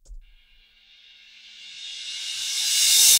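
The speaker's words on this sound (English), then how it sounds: "Now I'm going to click this to reverse it, and it'll sound like this." Reversed cymbal sample from a Logic loop library, a hissy wash swelling slowly from near silence to a loud bright peak over about three seconds and then cutting off abruptly.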